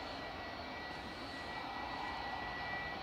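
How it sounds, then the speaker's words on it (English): A six-year-old EasyJet A320 lining up for departure at Manchester Airport, its jet engines giving a steady, even broadband roar at a moderate distance, with no voices over it. "So the EasyJet to Rhodes is lining up to depart now."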